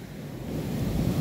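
Ocean waves break and wash steadily, making a broad, continuous rush that mixes with some wind noise on the microphone, with no voices.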